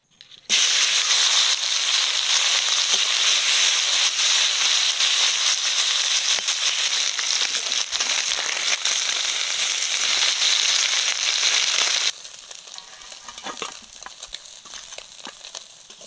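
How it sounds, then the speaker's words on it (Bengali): Bok fish coated in salt and turmeric fry in hot oil with a loud, dense, continuous crackling sizzle. It stays strong for about twelve seconds, then drops to a quieter, sparser spatter. "এখন তেলে ভেজে নিচ্ছি"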